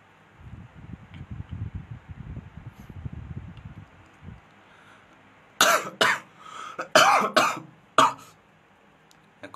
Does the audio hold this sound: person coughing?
yes